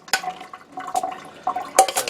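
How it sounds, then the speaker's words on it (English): Soaked rice tipped into a fine mesh strainer, with scattered splashes and trickles of excess water draining in bursts, close and fairly quiet. "So just throw it into the fine mesh strainer again. Just get rid of all that excess water."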